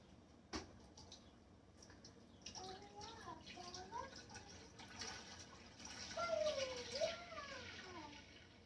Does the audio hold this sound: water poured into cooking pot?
yes